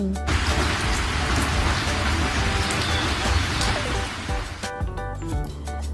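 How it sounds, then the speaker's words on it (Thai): Steady heavy rain pours down with a dense hiss, while a voice talks over it and music rises near the end. "ก็เลยแตกตัวเป็นหยดน้ำตกลงมาสู่พื้นดิน กลายเป็นฝนนั่นเอง"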